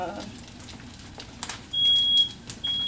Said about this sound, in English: My fire alarm lying on me.